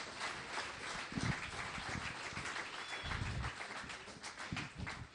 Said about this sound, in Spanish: Dele un aplauso, hermano, apláudale, dele gloria a Dios.